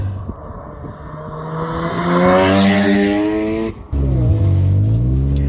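The rotary engine of a Mazda FD RX7 with HKS coilovers rises in a loud, climbing rev that peaks, cuts sharply, then resumes with a rough, burbling growl up close.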